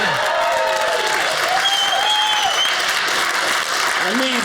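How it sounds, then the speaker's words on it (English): An audience at a comedy special claps loudly and continuously throughout, with a few whoops and voices mixed into the dense applause. "Come on, keep clapping, please"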